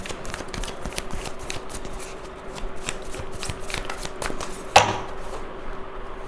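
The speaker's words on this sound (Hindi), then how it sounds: "पांच कार्ड्स निकालते हैं, ये कनेक्शन क्यों मिला है आपको" Tarot cards being shuffled close by for a card reading, a steady soft riffling and flicking with one sharper slap near the end as a card is drawn or set down.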